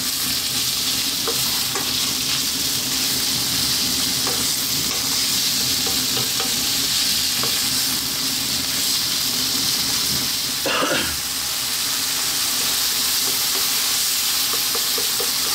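Bacon fries and is tossed around a pan over high heat, a steady broadband sizzle running throughout with scraping stirs and one louder clatter near the end; no talking.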